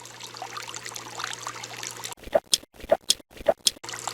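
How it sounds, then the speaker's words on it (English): Water dripping from the Water Oracle device, a series of distinct plinking drops in an uneven rhythm after a stretch of low background noise, close and clear. "It's not really dripping as loud as I wanted it to."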